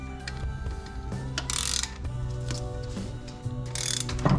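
A ratchet wrench backs out a bolt from a Miata six-speed transmission during disassembly, making quick, close clicking runs broken by short bursts of louder metallic rasping.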